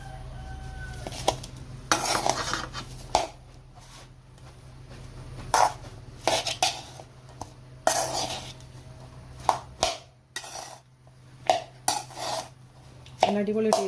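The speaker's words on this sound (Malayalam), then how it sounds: "നമുക്ക് നന്നായിട്ടൊന്ന് ഇളക്കി കൊടുക്കാം കേട്ടോ." A spoon stirs tempered mustard seeds in coconut oil in a pan for a dried tapioca and chickpea puzhukku, giving irregular scraping clinks and knocks over a faint steady sizzle, close and moderately loud.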